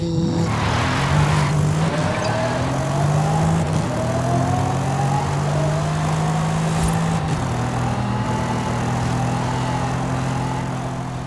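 Mercedes-AMG GT race car spinning out in a racing video game: a loud engine whines and shifts pitch through several gear changes while tires squeal and skid, with no talk.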